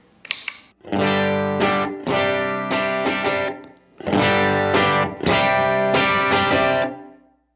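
Electric guitar through a Strymon Iridium and overdrive pedals plays heavily overdriven chords that ring out in two bursts of strummed phrases, thick and gritty, loud with no voices, separated by a brief pause.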